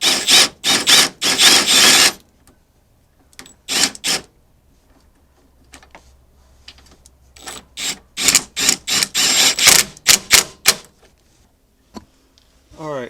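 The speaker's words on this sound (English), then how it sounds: "Take my impact gun." An impact gun fires in sharp, rattling bursts while tightening the rock slider bolts on a Subaru Forester, with several clustered groups of hits separated by quiet pauses.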